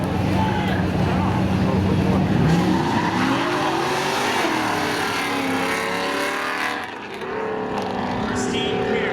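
A Pontiac Firebird drag racing side by side against another car at Seekonk Speedway spectator drags, engines roaring loud and sustained with shifting pitch and tire noise, a track announcer talking over it.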